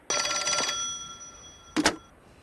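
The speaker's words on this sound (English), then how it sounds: "somebody's ringing me." A telephone bell rings in one long burst, then a short second burst after a pause, loud and close in a quiet room.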